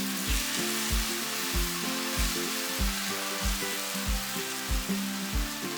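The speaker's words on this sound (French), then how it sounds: "Dans la même sauteuse, toujours à feu vif, un filet d'huile, faire revenir l'ail et l'échalote une dizaine de secondes, ajouter le bœuf" Beef tossed into a hot sauté pan with garlic and shallot in oil over high heat, a steady bright sizzle with rhythmic low thumps from repeated tossing or stirring, close and continuous with no talk.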